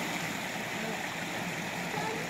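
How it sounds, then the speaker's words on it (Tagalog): A creek flows steadily with soft, continuous rushing and gurgling, heard faintly from a short distance without talking. "Nandito kami sa Sapa."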